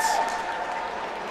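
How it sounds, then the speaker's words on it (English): Crowd applause at a sled hockey game: a steady, dense patter of many hands clapping that holds an even level for the whole stretch, with a faint tonal ring at the very start. "both teams receive a nice round of applause from this crowd"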